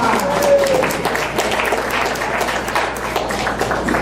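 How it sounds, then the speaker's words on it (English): Audience applause after a long medical cannabis talk session, a steady dense wash of clapping filling the whole stretch at even loudness, with a faint voice briefly over it near the start. "round of applause."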